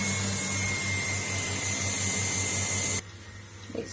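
A Numatic Henry vacuum cleaner runs with a steady, loud motor drone and a high whine for about three seconds, then cuts off abruptly, leaving a quiet room with a faint knock near the end.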